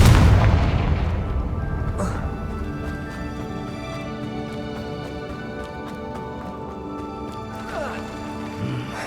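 A Confringo fire spell from Hogwarts Legacy goes off with a loud booming burst at the start, then decays into a sustained rumbling tail with layered game music and effects behind it.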